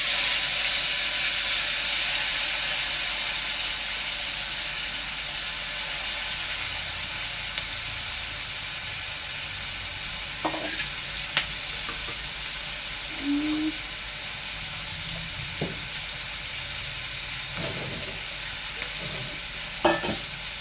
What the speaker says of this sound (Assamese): এতিয়া পিঁয়াজখিনি দি দিওঁ